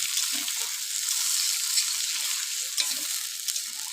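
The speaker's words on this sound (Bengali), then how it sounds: "আলুটা আমি ভালো করে ভেজে নেব" Potatoes frying in a pan over a wood-fired clay stove give a continuous close sizzle with small scrapes and stirring knocks, no voices.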